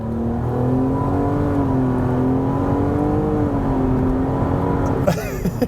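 2018 Nissan Maxima S accelerating hard in sport mode, engine note rising steadily in pitch as it pulls, fairly loud and continuous, ending with a brief shift-like break near the end.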